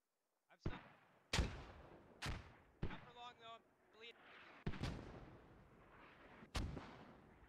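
Mortar rounds and heavy gunfire in the military shooter game Squad: several sharp, booming blasts spaced a second or two apart, with a short burst of rapid tonal fire between them and voices talking over the combat.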